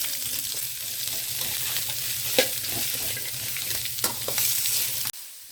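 Sliced onion fries in oil for soybean chilli, a continuous close hiss with light stirring clicks throughout, ending abruptly, with no talk.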